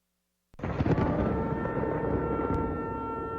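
Deep thunder rumbles from a played video of Mount Sinai, starting abruptly after a moment of silence and continuing as a heavy, steady roar, with faint sustained horn-like tones running underneath.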